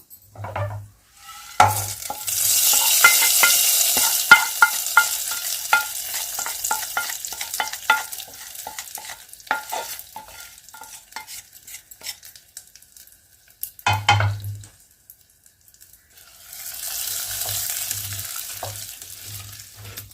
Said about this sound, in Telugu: ప్రిపేర్ చేసుకున్న పోపు అంతా ఈ పప్పులో వేసుకుందాం.